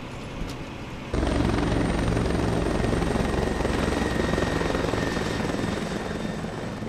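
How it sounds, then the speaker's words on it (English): A Los Angeles Fire Department helicopter kicks in suddenly after a quiet second, then its loud continuous rotor thrum and engine whine hold steady and close, fading only slightly toward the end. "We have helicopters and fire boats."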